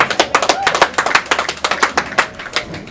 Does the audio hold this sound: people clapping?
yes